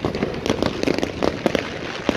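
Fireworks crackle and pop in a dense, continuous string of bursts, a busy outdoor display at Rooidorp in Alkmaar near bonfire stacks, heard at moderate distance with no voices.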